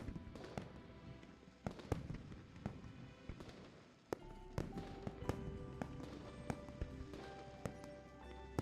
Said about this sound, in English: we're accompanied by fireworks lighting up boundless streets, and they burn throughout the entire night